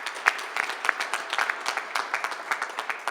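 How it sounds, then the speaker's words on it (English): Scattered applause from a small audience at a police department press conference, a few dozen irregular claps spread across three seconds at moderate loudness. "So can we give them a round of applause?"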